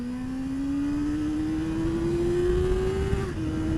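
A Kawasaki ZXR400 motorcycle engine screaming at high revs on a road test, pitch rising steadily under open throttle before a brief dip, loud and continuous with wind noise and no talk.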